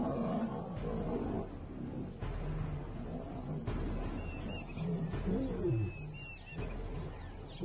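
Lions attack a buffalo in the wild, a lioness starting the assault before the male strikes, with low rumbling growls and roars under a busy outdoor background and faint bird calls.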